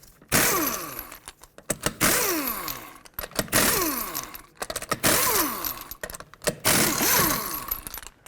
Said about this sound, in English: Remove all 5 of your lug nuts.